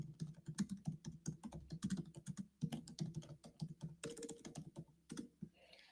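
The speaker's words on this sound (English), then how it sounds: "I'm just typing in right now." Quick bursts of typing on a computer keyboard, keys clicking close by in irregular runs with short pauses, quiet and alone.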